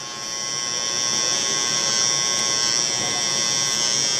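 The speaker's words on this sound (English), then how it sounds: "Now I want to kind of use the clipper." An electric hair clipper buzzes steadily at close range with a high, even whine, used for a low taper haircut, with no talking over it.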